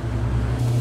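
A car in the video game H1Z1 idling and rolling to a stop as it is parked, a steady low engine hum close up, brief and without talk.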